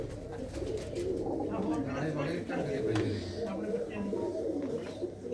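Male pigeons coo softly and repeatedly inside a loft in Mansa, Punjab, while someone talks over the birds almost continuously.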